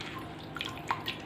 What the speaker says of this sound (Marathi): धुवून असं पाणी निथळून काढायचं आहे